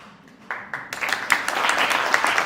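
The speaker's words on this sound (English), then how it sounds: "Everybody's clapping." An audience at a film festival Q&A in The Hague breaks into applause, a few scattered claps at first that quickly swell into steady, dense clapping filling the room.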